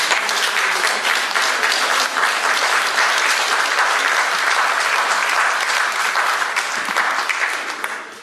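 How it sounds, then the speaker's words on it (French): An audience applauds a 65-year-old Cameroonian guest speaker at a gathering of the Union of African Tirailleurs, with dense, sustained clapping that holds steady and loud throughout before easing slightly at the very end. "J'aimerais qu'on l'applaudisse"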